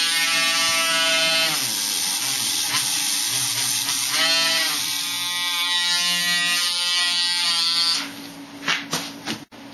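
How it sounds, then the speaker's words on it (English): A rotary tool carves lettering into a foam tombstone with a high, buzzing whine that wavers in pitch as it bites, steady and close for most of the stretch before cutting off into a few brief rattles. "take your X-Acto knife or your rotary tool, whatever you choose to use, and start to carve out your lettering."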